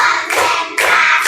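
Hands clap in a classroom counting game, two or three sharp bursts of group clapping in quick succession, close and loud.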